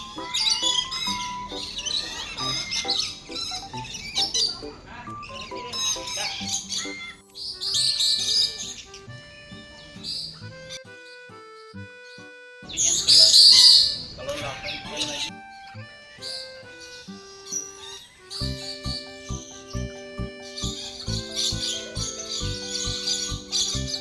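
Birds at a Kuala Lumpur bird park chirp and tweet in scattered bursts of high calls, some loud and close, with tonal whistles and people speaking in between.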